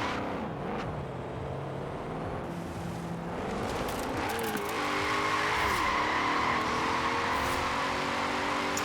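A tuned drift car in Forza Horizon 4 revs hard and accelerates, its engine note climbing and wavering through a slide, with tire squeal building underneath, loud and close.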